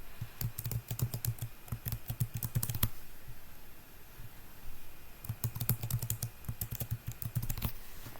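Quick clattering keystrokes on a computer keyboard as a password is typed, two clustered bursts of close clicks separated by a short pause, with no voices over them.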